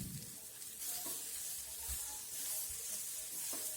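A potato, pea and tomato curry is stirred in a pan, giving a soft, steady sizzle with faint scraping, quiet and close.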